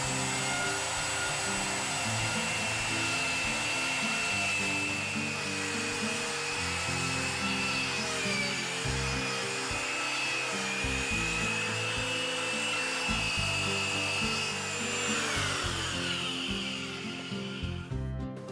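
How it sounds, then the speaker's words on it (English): A drill bores steadily into rotten wood at a lumber corner joint, a continuous close whine with grinding texture that runs for the whole stretch and tails off near the end, with no voices. "Remove all the loose fibers that we've drilled out."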